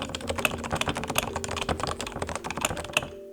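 Fast, steady typing on a Topre Realforce keyboard, a dense stream of muted, rounded key presses at close range, ending in a brief quiet moment.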